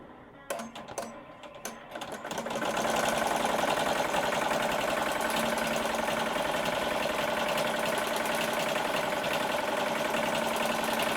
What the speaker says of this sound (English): I'm going to slow the machine down to about 700 stitches per minute.